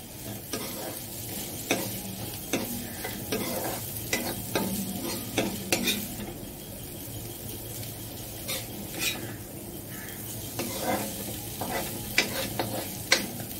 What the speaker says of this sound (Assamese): এইখিনি ভজা হৈ গৈছে।